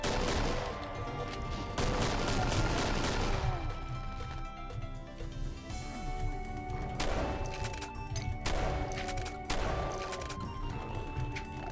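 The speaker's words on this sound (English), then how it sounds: "That is a fat sounding gun though." Heavy, punchy video game gunfire, repeated loud shots in clusters with short gaps and ringing tails, close and dominant over continuous game background sound.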